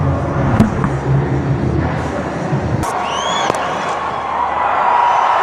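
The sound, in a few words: crowd cheering at RCB vs SRH cricket match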